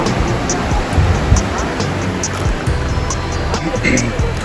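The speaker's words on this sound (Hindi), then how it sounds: "पानी का शोर" Roaring floodwater rushing close by near an OGDCL gas well during a 2025 flood, a loud continuous broadband churn filling the scene with a few brief bumps.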